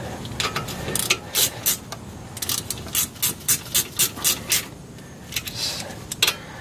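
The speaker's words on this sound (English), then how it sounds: "Get the wrench going now" Ratchet wrench snugging the caliper bolts during a front brake job on a BMW 3 Series E36/E46, a close series of short rhythmic ratcheting bursts, about a dozen strokes with brief pauses, no talking.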